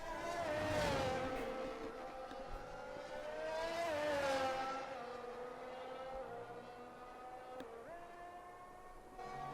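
Formula 1 car engine in the video game F1 23 at the Portugal circuit, a high, whining note that climbs through the gears and drops on shifts and braking, loud and steady with no talk over it.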